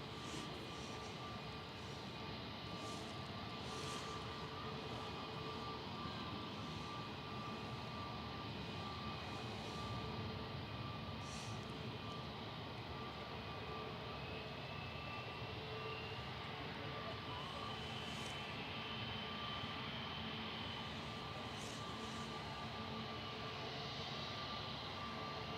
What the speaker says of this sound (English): EasyJet from Belfast on final approach, GEZPD, just coming over the threshold with flight 91